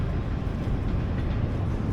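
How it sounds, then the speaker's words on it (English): A train rolling across a bridge, heard as a loud, steady low rumble of rail traffic close by, filling the whole moment without speech. "there's a train going by on that bridge"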